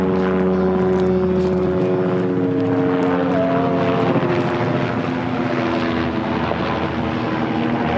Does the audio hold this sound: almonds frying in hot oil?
no